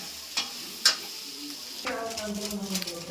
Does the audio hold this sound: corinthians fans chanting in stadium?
no